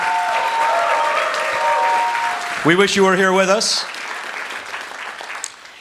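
Audience applause for a student joining by live stream, a broad crowd clapping under a speaking voice before thinning out.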